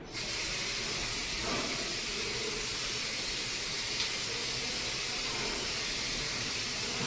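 Aerosol developer sprayed in a steady, even coat onto a metal inspection part during magnetic particle testing, a continuous close hiss running unbroken for about seven seconds with no talking.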